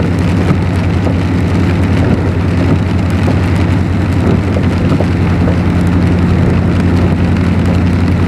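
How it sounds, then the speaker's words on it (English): Heavy rain falls steadily at night on tarmac with puddles between a building door and a gate in the Pacific Northwest, a dense continuous hiss and patter with a low rumble beneath, loud and unbroken throughout. "it's a pretty good rain out there tonight"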